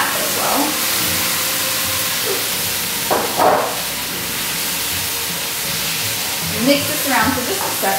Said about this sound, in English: I'm going to take my blanched tomatoes that I have. I'm going to add that as well.